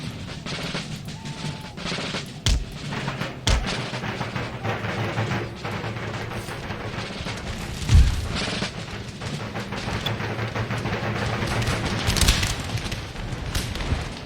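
Musket volleys and artillery booms roll through an Empire: Total War battle as regiments open fire, a dense, continuous din of shots with a few sharper, louder blasts standing out near and far.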